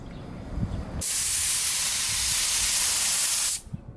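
A spray gun sends out a single loud, steady hiss of paint with heavy overspray during bodywork on a Toyota AW11 MR2, running unbroken for about two and a half seconds before cutting off sharply.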